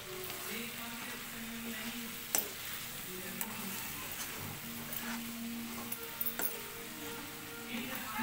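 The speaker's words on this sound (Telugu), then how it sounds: "మొత్తం కారం అంతా కలిసేలాగా ఒకసారి కలుపుకుందాం." Chilli powder stirred into frying goat liver in a pan, a soft, even sizzle running throughout with occasional faint spoon scrapes, moderately quiet and close, with no speech.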